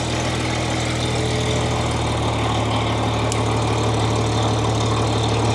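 An International 656 tractor with a new exhaust and a freshly serviced carburetor idles close by, a steady, even low-pitched engine drone with constant loudness and no talk.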